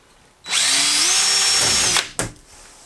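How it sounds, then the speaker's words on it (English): A power drill drilling pilot holes while installing a Maax Utile wall system whirs steadily for about a second and a half, winding down, then a short second burst of drilling follows. "pre-drill some holes"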